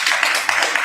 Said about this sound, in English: You all give yourself a hand clap.